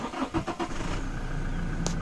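A Toyota Fortuner 2.8 diesel cranks with a few rapid starter pulses after a push-button press, then catches and settles into a steady close idle.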